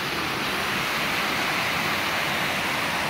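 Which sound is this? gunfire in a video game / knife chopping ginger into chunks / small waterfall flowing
small waterfall flowing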